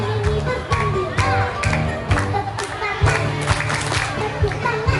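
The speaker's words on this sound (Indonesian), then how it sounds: "Tepuk tangan, tepuk tangan, bersama ini bergembira." Schoolchildren at an elementary school farewell for sixth graders clap their hands in rhythmic bursts while singing along to an upbeat song, with crowd noise and children's voices throughout.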